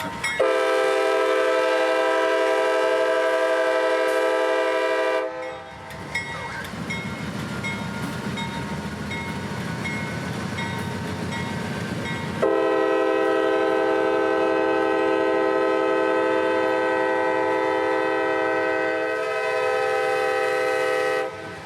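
Freight train 727 rolls through Folkston, Georgia, its horn blaring in long loud blasts, then a rumbling, clattering stretch of passing cars before another sustained horn sounds close by.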